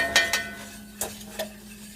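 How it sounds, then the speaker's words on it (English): A whisk scraping and clinking against a pan while turkey wings cook, giving a few sharp metallic taps and short scrapes over a low steady hum, close and fairly loud. "See, you can whisk it."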